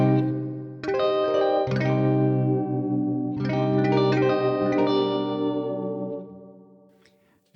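A spring reverb plugin adds a splashy, metallic reverb to sustained, chorused synth chords that swell in and out in two phrases, with a long tail that fades out at the end.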